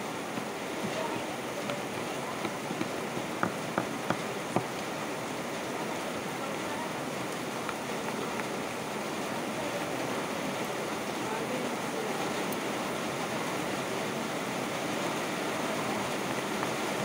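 Steady rain falling outdoors, a dense continuous hiss of fairly even, moderate loudness that runs throughout, with a few faint ticks and no clear voices.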